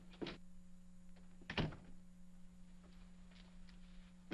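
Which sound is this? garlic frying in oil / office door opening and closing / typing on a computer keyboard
office door opening and closing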